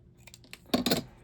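Scissors snip through green paper while trimming a handmade gift box, a couple of quick, close, crisp cuts building to two louder strokes near the end.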